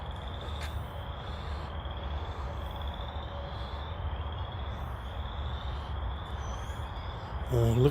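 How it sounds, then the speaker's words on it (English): Outdoors in Chicago, near roaming wild birds, frogs keep up a faint, steady high-pitched trill over a low background rumble. A voice comes in briefly at the very end. "Hear the frogs?"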